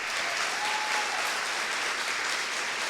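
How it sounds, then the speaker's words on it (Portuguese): Steady applause from a church congregation during a Catholic sermon, a dense wash of many hands clapping at an even level throughout with no speech over it. "Vai, aplauda."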